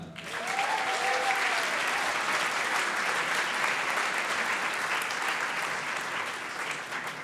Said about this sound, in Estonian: Ja palun veel üks suur aplaus staarfotograaf Markus Seinale.